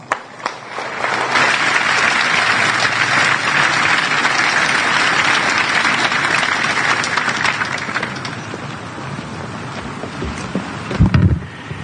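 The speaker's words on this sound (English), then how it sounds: "please join me in a warm round of applause for Lieutenant General retired House" Audience applause for a retired lieutenant general at a formal ceremony, a loud sustained wash of clapping that rises quickly, holds for several seconds, then thins out, with a few handling bumps near the end.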